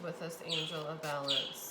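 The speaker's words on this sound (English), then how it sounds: "you could probably hear the birds chirping in the background" Small birds chirping in short, high tweets outdoors, two brief calls heard faintly in the background while a person speaks over them.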